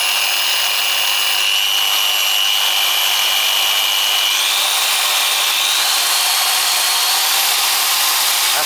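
An SPTA 5-inch dual action polisher runs on speed one, resting in the hand, giving a steady high-pitched motor whine that stays even and close throughout with no talk.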